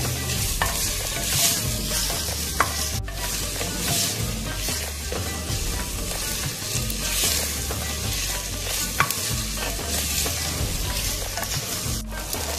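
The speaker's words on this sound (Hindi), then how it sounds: "प्याज को हमने मीडियम फ्लेम पे फ्राई करना है।" Onions sizzle and fry steadily in a hot pan over medium flame, with occasional sharp clinks and scrapes of a spoon stirring, no voices.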